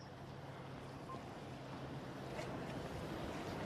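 Constant low rumbling wind buffets the microphone at a boat inlet, a dull roar with no voices, steady throughout.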